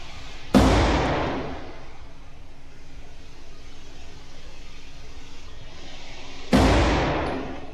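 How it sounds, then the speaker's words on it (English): Two sharp, loud pistol gunshots from a Fusion XP-PRO Comp, spaced about six seconds apart, each with a broad blast and a decaying tail over steady outdoor background noise. "I really enjoy shooting this thing."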